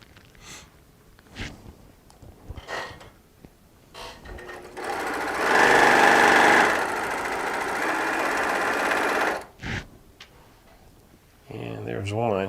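A sewing machine stitches a Tula Pink charms-and-strips quilt in one steady burst of a few seconds, bracketed by sparse clicks and handling knocks before and after.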